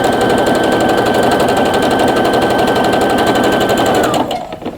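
A sewing machine stitches quilt fabric for an offset log cabin quilt block, running fast and steady for about four seconds with a dense, even mechanical whir up close before it stops abruptly.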